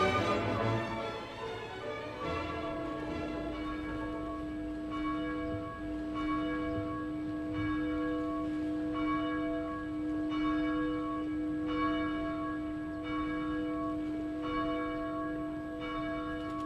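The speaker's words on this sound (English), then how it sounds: "The bells are ringing." Church bells ring on a wedding morning, a sustained resonant peal with overlapping tolling strikes that keep sounding continuously, full and moderately near, with no talk over them.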